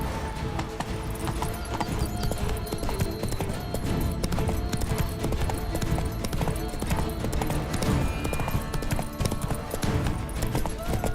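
Roach, Geralt's horse in The Witcher 3: Blood and Wine, gallops with rapid, rhythmic clip-clopping hooves. The hoofbeats are loud and continuous over game music, and a voice speaks briefly.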